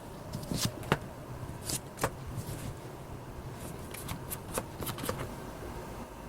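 Tarot cards are shuffled and drawn by hand, in quick irregular bursts of riffling and slapping card sounds, close and fairly quiet, with no talk.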